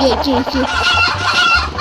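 Chickens in a video game cluck loudly in quick, overlapping bursts, while a person talks over them.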